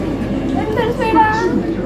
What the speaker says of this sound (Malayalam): ട്രെയിൻ പതുക്കെ മൂവ് ചെയ്ത് തുടങ്ങിയിട്ടുണ്ട് കേട്ടോ